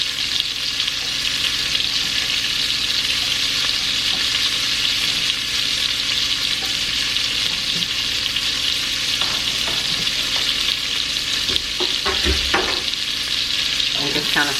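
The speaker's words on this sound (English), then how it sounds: "now we're going to add in our red onions" Red onions fry in bacon fat with a steady, loud broadband sizzle that runs throughout, broken near the end by a few clicks and scrapes of stirring.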